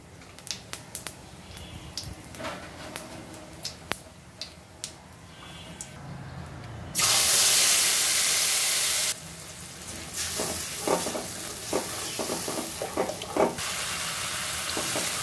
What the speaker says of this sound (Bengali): ওই তেলের ভিতরে দিব জিরা ফোড়ন